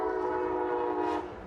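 An Amtrak train horn blows in Encinitas, a long, steady, fairly distant blast with rumbling rail noise beneath it and no voices.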